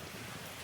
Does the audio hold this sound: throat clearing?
no